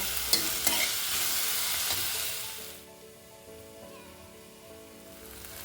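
Chopped tomato stirred into a frying Bengali amudi fish jhal, with a bright close sizzle and scraping spoon strokes at first, then the hiss drops away to a quieter simmer for the rest.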